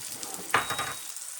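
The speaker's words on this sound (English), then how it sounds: "I'm going to let that brown on each side" A steak-seasoned pot roast browning in a hot pan, giving a steady close sizzle throughout with a brief louder hiss and spatter partway through, with no talk.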